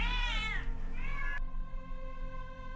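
A cat in The Excavation of Hob's Barrow lets out a single drawn-out meow with rising and falling pitch, followed by a steady tonal hum.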